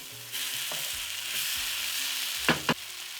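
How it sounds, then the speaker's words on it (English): Tomatoes sizzling and frying in a pot as the base for a green grams (ndengu) lentil stew, with a steady close crackle and a couple of clanks from stirring near the end. "I'm going to cook these tomatoes until they break down"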